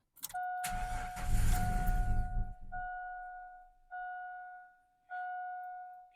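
A 2000 GMC 1500 short-bed pickup cranks for about two seconds in a loud, rumbling burst, then falls quiet. A steady two-tone warning chime rings throughout and keeps repeating in short pulses once the cranking stops.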